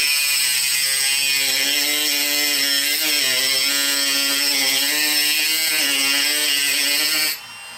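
A Dremel rotary tool spins a metal cutting disc through a door hinge, giving a loud, steady high-pitched whine with a slowly wavering grinding tone that runs for about seven seconds before it abruptly cuts off.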